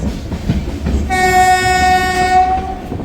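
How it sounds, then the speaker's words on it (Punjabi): A moving Jan Shatabdi passenger train between Amritsar and Haridwar rumbles loudly close by, gathering speed after leaving the platform, its horn blaring for a couple of seconds over the steady rattle of the carriages. "ਆਪਣੀ ਟ੍ਰੇਨ ਚੱਲ ਪਈ ਹੈ ਜੀ ਨਿਕਲ ਚੁੱਕੀ ਹੈ ਪਲੇਟਫਾਰਮ ਤੋਂ ਸੋ ਸਪੀਡ ਫੜ ਲਈ ਆ"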